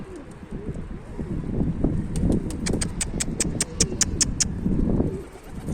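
Pigeons at a loft, with low cooing murmurs running throughout and a burst of rapid wing claps in the middle, close and fairly loud.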